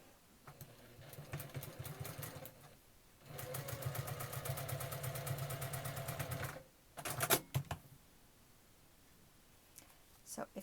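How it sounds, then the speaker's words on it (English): A sewing machine stitches fabric strips together for a quilt block, running in close rapid bursts of mechanical whirring with short pauses between runs, while a person talks faintly in the background. "all we have to do is sew them together, matching up the seams and making sure they alternate between your background and your secondary fabric"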